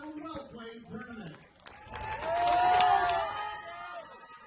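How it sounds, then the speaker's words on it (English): A crowd at a Little League softball championship game applauds and cheers at the end of the tournament, a broad swell of clapping that rises after a stretch of talk. "One last round of applause in celebration of a well-played tournament"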